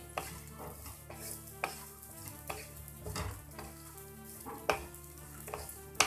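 Flattened rice (chire) fries in a pan over medium heat under constant stirring, with a soft sizzle and repeated scraping and rustling strokes close by, ending in a sharper clank.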